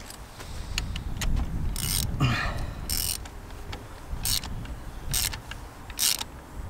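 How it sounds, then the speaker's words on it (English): A spanner tightens a spark plug on a remapped Seat Leon Cupra 280, giving a series of short metallic ratcheting clicks and scrapes in bursts, close up and fairly quiet, with no talking. "Just get the spanner on it."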